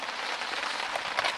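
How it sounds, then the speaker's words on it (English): Steady rain patters down at a KOA campground in the Boundary Waters, a dense, even hiss of drops close by with no voices. "Wait out the rain."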